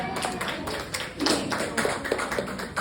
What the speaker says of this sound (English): That's kind of the applause I get that it's free.